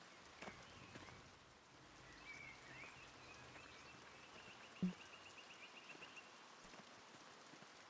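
Faint, steady rain patters on surfaces in the video game Pentiment, a soft wash of drops with a single louder knock midway and a few faint bird calls, no talking.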